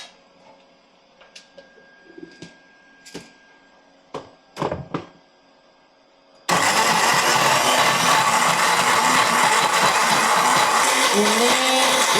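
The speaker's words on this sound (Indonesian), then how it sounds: "Lalu kita blender." A kitchen blender roars steadily and loudly after several seconds of scattered clinks and taps, grinding a mix of cooking ingredients with salsa and frying oil for an Indonesian home-cooked meal.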